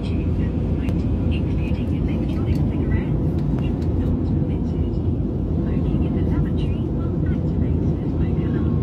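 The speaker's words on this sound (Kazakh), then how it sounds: "Мен азыр самолетто учуп барат" Steady, loud engine drone fills the cabin of an airliner cruising over Kyrgyzstan's mountains, an unbroken low roar with faint scattered clicks and rustles on top.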